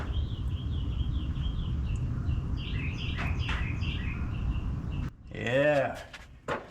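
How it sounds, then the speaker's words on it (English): Birds chirp and tweet outdoors after the rain, a steady scatter of small calls over a soft background wash, followed by someone speaking briefly near the end. "You can hear all the birds outside."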